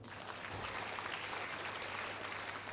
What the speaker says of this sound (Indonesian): Tepuk tangan Bapak dan Ibu